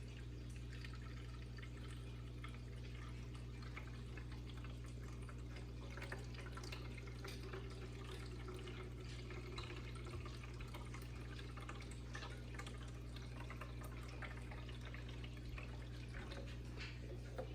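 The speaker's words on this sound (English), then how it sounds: "you got the blending jar thing, and then you want to fill it with water. So this is filtered water." Filtered water runs steadily from a tap into a blender jar, a continuous soft splashing hiss that stays even and close throughout, with no voices.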